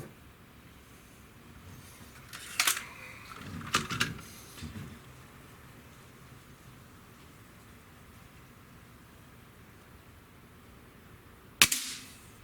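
A Sig Sauer ASP20 break barrel air rifle fires a single sharp, close crack near the end of a quiet stretch, after a few earlier bursts of handling clatter.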